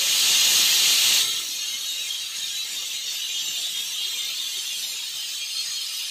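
A pressure cooker cooking rajma gravy vents steam in a loud, broad hiss for about a second, then settles into a steady, softer hiss that runs on to the end, with no voices.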